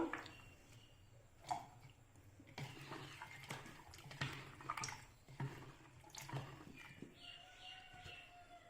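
Chopped coconut pieces being washed in water: soft splashing and sloshing with occasional drips and squishy handling, close and fairly quiet, no talking.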